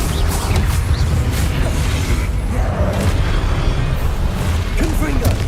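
Fire spell cast in the Hogwarts Legacy video game, heard as continuous loud game audio with low rumbling, bursts and pops throughout, while a voice shouts a spell name.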